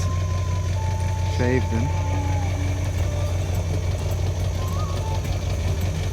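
A vehicle engine idles and rumbles steadily, low and loud throughout, while it reverses a tiny house trailer through a tight spot under overhanging branches; a few short words are spoken over it.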